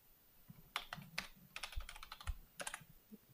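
A new password is typed on a computer keyboard: quiet, close clusters of crisp keystrokes in uneven bursts with short pauses between them and no voices.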